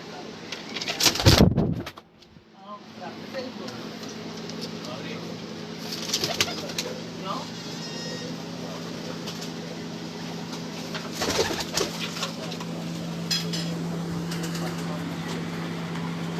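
Pigeons on a rooftop in Gujranwala coo in soft, repeated calls over a steady low hum, with a loud burst of flapping or handling noise near the start and occasional sharper bird sounds later.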